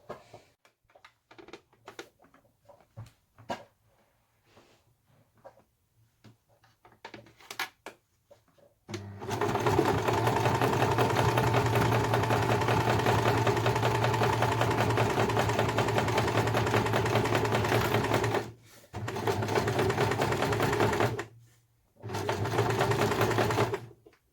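A sewing machine stitches a pouch seam forwards and backwards, a steady close mechanical whir that runs continuously for long stretches with two brief pauses, after some faint handling taps.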